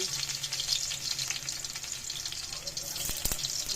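Garlic frying in a hot wok for pancit bato, a soft continuous sizzle with faint scraping and a couple of sharp clinks near the end.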